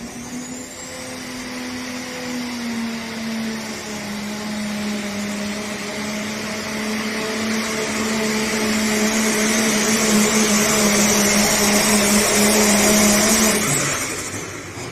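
V8 hot rod pulling tractor engine droning loudly and steadily at a tractor pull in Memphis, Tennessee, building slightly before cutting off near the end.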